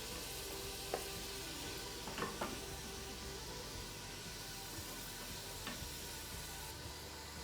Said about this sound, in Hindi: अब हम इसमें अपने फ्राई किए हुए प्याज डालेंगे।